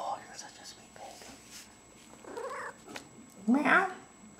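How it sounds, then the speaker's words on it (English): A baby kitten on a dining room table in a home in Lenexa, Kansas makes soft, faint cooing chirps, with a louder trilling call near the end, amid quiet whispered talk. "Oh, she is cooing."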